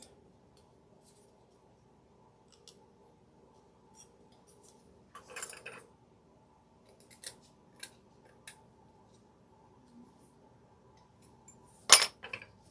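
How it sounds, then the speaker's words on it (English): Scissors snip through thick paper while a DIY angel ornament is trimmed, a few scattered quiet cuts followed by a louder sharp snip near the end, with no talking. "I'm going to go ahead and trim some of this"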